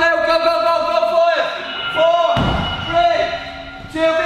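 Medicine balls slam down during a full-body circuit training session, a few heavy thuds spaced a second or so apart, with a loud voice shouting over them.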